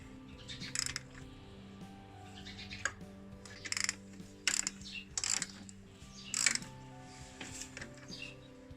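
A ratchet tightens a supercharger mount bolt on a BMW M44 engine, giving several short bursts of quick clicking, close and fairly quiet with pauses between strokes and no talking.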